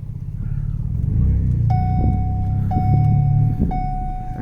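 A twin-turbo Ford F-150 with an eBay exhaust and its cutoff valve open rumbles steadily at idle, a deep engine drone, while a high whine keeps returning across several seconds.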